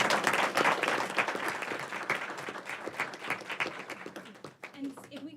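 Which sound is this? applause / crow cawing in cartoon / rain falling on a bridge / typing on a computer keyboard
applause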